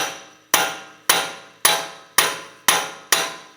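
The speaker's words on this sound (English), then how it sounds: "I'm just taking a punch and a hammer, just tapping it in." Six sharp metallic taps from a hammer striking a punch against a Jeep Cherokee rear axle, evenly spaced about half a second apart, each ringing briefly before the next.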